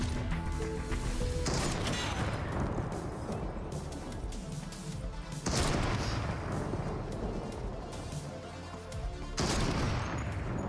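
Gunfire from an enemy player in Fortnite, dense loud bursts of shots and impacts that come in three waves, each starting sharply then tailing off, with no talk over them.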